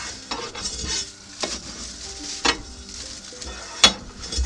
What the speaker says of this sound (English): take this tool, which we're going to use again later, and we give the coal bed a good stir